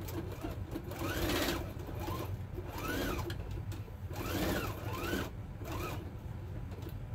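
A sewing machine stitches around a fabric mat with Decobond interfacing between layers, running in a steady close whir with repeated rising and falling speed swells and no talking.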